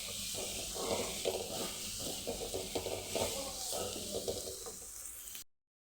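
Ivy gourd and tomato sautéing in a pan: a steady broad sizzle with repeated scraping stirs throughout, ending abruptly in silence.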